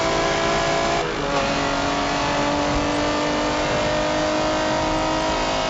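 A Porsche in a racing video game drives fast, its engine droning loudly and steadily at high revs with a slight dip near the start and no talk over it.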